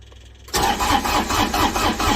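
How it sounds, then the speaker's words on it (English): A small diesel tractor engine cranks and catches on a cold start with a dead battery, jumping abruptly from quiet into a loud, rhythmic chugging idle close to the microphone. "Let's see if she fires up this little diesel tractor."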